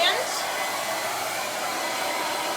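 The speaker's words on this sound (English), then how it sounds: "get it hot with the blow dryer" Blow dryer heating a section of hair wrapped on a brush, a steady close whooshing hiss of moving air that holds constant and loud throughout, with no talking.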